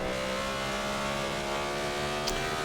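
BMW Z4 GTE race cars pull out of the pit lane at Silverstone in a racing video game, a steady dense engine drone with layered revving tones running throughout without a break.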